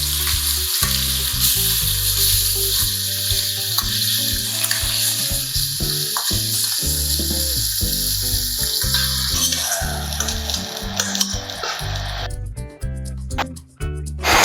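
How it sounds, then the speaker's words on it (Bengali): Chicken pieces frying in white oil and ghee crackle and sizzle loudly and continuously up close, with irregular popping spatters and the occasional stir. "চিকেনগুলোকে ভাজতে দেবো।"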